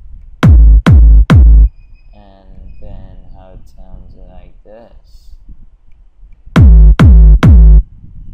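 Three booming trance kick drums shaped with a parametric EQ in FL Studio for a chillout trance track, then someone talks briefly, then three more kicks, loud and evenly spaced.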